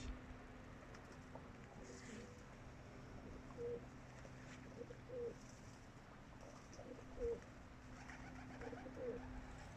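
Pigeons bathing and cooing, soft repeated coos every second or so over a low steady background hum, fairly quiet and close.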